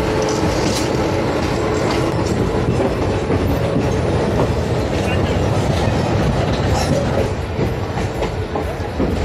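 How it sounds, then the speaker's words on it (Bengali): Passenger train running at about 60 to 70 km/h, heard from on board as a loud, continuous rolling roar with rhythmic clickety-clack from the wheels and faint squeals throughout. "ট্রেন তখন ছুটছে প্রায় 60 থেকে 70 কিলোমিটার বেগে"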